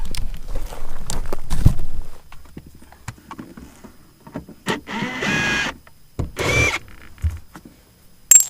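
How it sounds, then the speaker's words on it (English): A power drill backs out two Phillips screws from interior trim in a VW MK4 GTI, heard as two short, loud whirring bursts amid clicks and handling knocks, with no talking. "There's gonna be 2 Phillips screws. We're gonna take those out."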